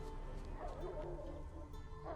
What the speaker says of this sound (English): It's a guard dog.